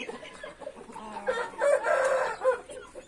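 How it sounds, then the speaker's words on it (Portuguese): Backyard chickens, including a small white hen and a rooster, cluck nearby while a crow rises toward the end, the calls loud and close with no talk over them. "Galinhazinha branquinha aqui, ó. É a galinha dele, né?"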